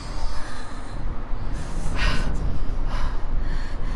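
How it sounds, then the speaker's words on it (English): A person gasps for air during a spooky game stream, a few sharp, breathy intakes and snorting breaths close to the microphone, rising and falling over several seconds. "I gasp for air"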